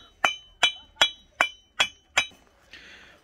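Six crisp, ringing taps on a hard fired brick, evenly spaced and close, each with a bright metallic clink, followed by a faint scraping hiss.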